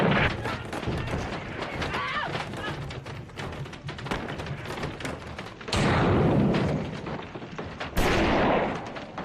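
A film action scene with a gunshot followed by a gas tank explosion, a rapid burst of hard gunfire and thuds ending in two heavy, booming blasts that swell and decay, loud and close.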